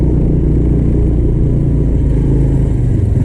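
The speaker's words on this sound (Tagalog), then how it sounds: "Ay, ito pala motor." A motorcycle engine idles and runs nearby, a loud, steady low rumble continuing without pause throughout.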